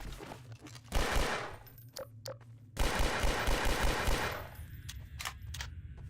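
Magnum revolver gunfire in a video game set in City 17: two loud, sharp blasts about two seconds apart, each followed by a long ringing roar, with faint clatter between them.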